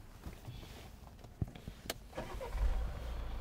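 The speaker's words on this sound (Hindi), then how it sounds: "तो अगर मैं गाड़ी स्टार्ट करके दिखाऊं आपको" A Citroen C5 Aircross starts up: a few clicks and a short crank lead into the engine catching, followed by a low, steady idle rumble close by, with no talk.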